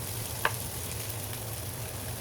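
Garlic and onion frying in oil for chicken sinigang: a faint, steady sizzle that runs the whole time, with one brief click partway through and no voices.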